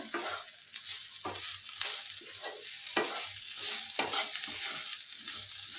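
Masala okra (bhindi) with fresh coriander being stirred in a pan, a steady soft sizzle broken by repeated scraping strokes of a spoon at a loose, even rhythm, close and fairly quiet with no talking.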